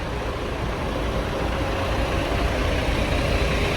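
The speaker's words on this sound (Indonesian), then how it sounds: "Ini adalah raungan mesin dari Volvo B11R." A Volvo B11R premium bus engine rumbles steadily and loudly nearby at a bus depot, a continuous heavy drone with no speech over it.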